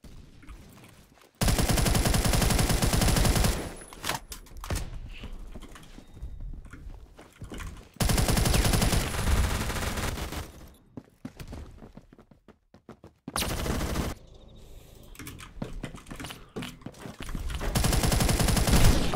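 Burst-fire guns in a video game, loud rapid volleys in several separate bursts lasting a second or more each, with quieter gaps of game noise between them.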